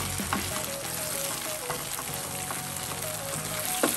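Chopped sun-dried tomatoes and mini heirloom tomatoes sizzle steadily in a hot pan for lobster pasta, with a few light scrapes as they are stirred in, close and without talk.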